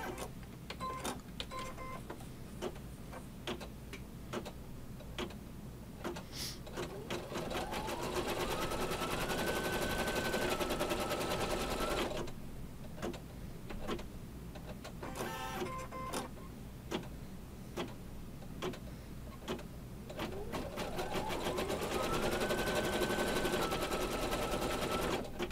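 Embroidery machine sewing an applique heart placement stitch, a rapid mechanical clatter of needle strokes with periodic rising motor whines as the hoop moves, steady and close throughout.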